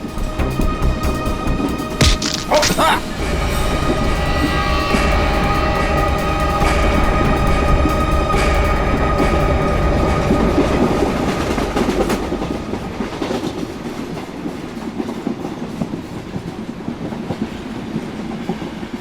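Train running on rails, loud and close, with rhythmic clickety-clack from the wagons, a sharp metallic burst near the start, a steady rumble through the middle and a gradual softening toward the end, with no talking.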